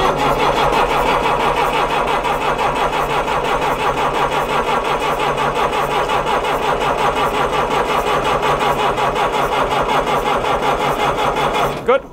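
Diesel engine of a Mercedes MB Trac tractor cranking on the starter and catching, a steady dense mechanical drone running loud and close for nearly the whole stretch before cutting off abruptly at the end.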